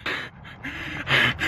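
A dog pants hard and fast while running alongside its owner on a hot day: a close, rhythmic series of breathy huffs with short gaps between them.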